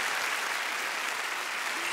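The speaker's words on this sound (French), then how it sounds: "Voilà, on peut l'applaudir." Steady audience applause for a young performer at a talent competition semi-final, an even wash of many hands clapping without a break.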